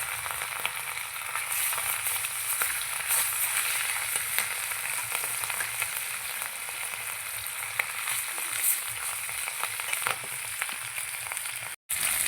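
Rohu fish pieces fry in hot oil with a steady, dense sizzle and crackle, close and continuous, with a brief dropout near the end.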